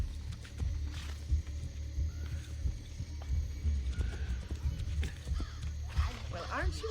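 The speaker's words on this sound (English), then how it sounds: "Doing a good job, horse. Get yourself to safety." A horse gallops in an Assassin's Creed video game, its hoofbeats a soft, rhythmic thudding kept low under game sounds and someone talking over it.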